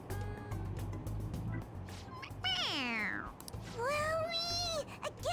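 A video game cat meows in a few rising and falling cries over background game music and noise.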